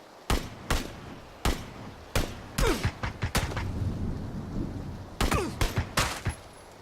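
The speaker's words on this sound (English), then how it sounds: "Terrible shooting there once again." Repeated gunfire in the battle royale video game PUBG (PlayerUnknown's Battlegrounds), a sequence of sharp loud shots in irregular bursts, some close together, with a low rumbling stretch between volleys and another cluster of shots near the end.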